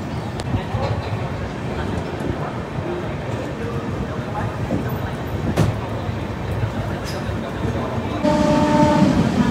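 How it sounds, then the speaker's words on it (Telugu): A train arrives at platform 3 of Rajahmundry railway station with a constant heavy rumble and clanking of cars, ending in a louder tonal blare like a horn or brakes. "ప్లాట్ఫామ్ నెంబర్ 3కి అయితే వచ్చింది మన ట్రైన్."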